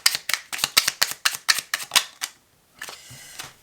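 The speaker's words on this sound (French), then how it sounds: "je vais tirer 3 cartes" Playing cards drawn one after another from a tarot-style deck: a rapid run of about ten crisp, close snapping flicks, then a softer shuffling rustle after a short pause.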